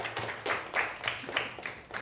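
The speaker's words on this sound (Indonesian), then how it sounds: "Tepuk tangan untuk diri sendiri." A classroom of schoolchildren claps together in a quick, steady rhythm of about seven sharp claps, close and fairly loud, with no talking.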